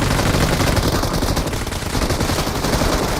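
Sustained automatic gunfire in PUBG Mobile, loud and continuous with dense rapid bursts of shots and no talk over it.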